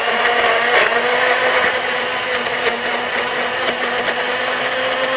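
A kitchen blender whirs steadily while blending a healthy fruit juice, a loud, continuous motor drone with a slight dip after the first second.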